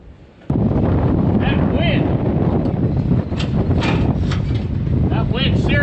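Strong wind buffets a microphone outdoors at a silo demolition site, a loud, constant roar that starts abruptly, with people talking faintly underneath.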